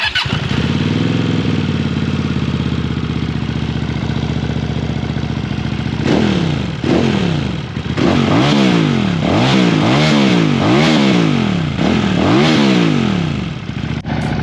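A QJ Motor SRV 400 motorcycle idling close by, then revved repeatedly through its exhaust pipe in a series of loud rising and falling blasts, with no talk.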